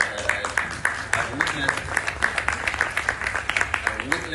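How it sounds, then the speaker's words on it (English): Conference audience applause for scholarship sponsors at a Caribbean shipping executives' gathering, a crowd clapping in a steady rhythm of sharp claps for several seconds. "And I think we should give them a round of applause."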